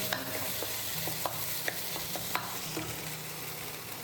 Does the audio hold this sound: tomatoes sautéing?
yes